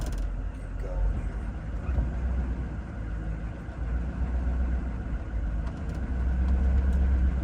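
The engine of a damaged box truck running, a steady low rumbling idle with faint mechanical clatter that swells slightly toward the end, heard alone without talk.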